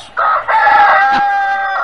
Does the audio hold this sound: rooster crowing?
yes